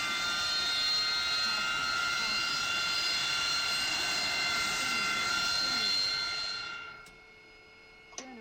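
Jet aircraft engine running in a flight video game, a steady whining roar with sustained high tones that fades out near the end, followed by a sharp click.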